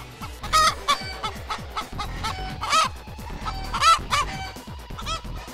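Farm chickens cluck and squawk in repeated, agitated bursts, close and fairly loud, with several birds overlapping and occasional higher calls mixed in, and no voices present.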